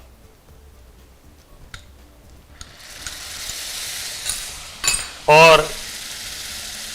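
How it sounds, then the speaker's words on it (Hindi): Nuts fry in a pan as yogurt goes in and is stirred, a sizzle that swells from quiet to steady, with a few utensil clinks and a brief spoken word near the end. "जैसे ही नट्स हल्के से ब्राउन होते हैं इसमें मैं डालूंगा दही"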